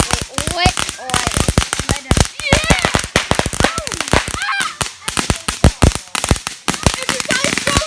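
Rapid bursts of firecrackers and fireworks, a dense string of sharp loud cracks and pops with whistling streaks, going off close by for several seconds with voices shouting underneath.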